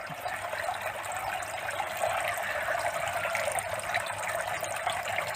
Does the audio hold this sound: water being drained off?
yes